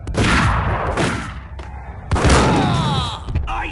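Loud bursts of gunfire ring out in the Max Payne video game, coming in clustered volleys with brief gaps between them. Faint voices can be heard in the background.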